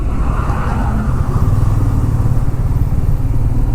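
Petrol tanker trucks rumbling past on a winding ghat road in Maharashtra, a loud, close, continuous engine drone with heavy low rumble and no voices.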